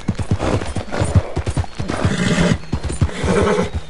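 A horse in Red Dead Redemption 2 whinnies loudly over rapid galloping hoofbeats, with busy game sound around it throughout.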